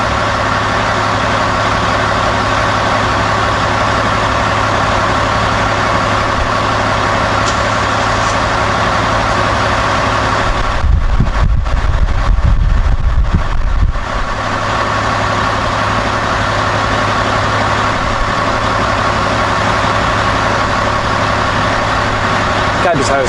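A dump truck towing a flatbed trailer idles aboard a Kootenay Lake ferry, a steady low diesel drone with a brief surge of louder rumble partway through.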